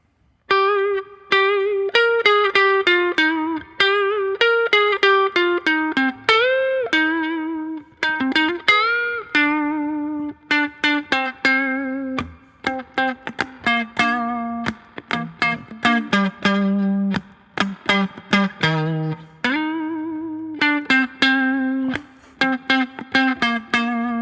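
A guitar riff with bright, sustained picked notes and quick repeated plucks, played steadily and clearly with no talking throughout.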